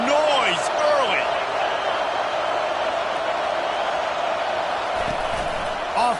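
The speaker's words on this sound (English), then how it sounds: "This crowd bringing the energy and noise early." A steady roar from a football stadium crowd at an Alabama game, a broad sustained wash of noise holding level throughout, with a few faint thumps and whistling tones riding on top.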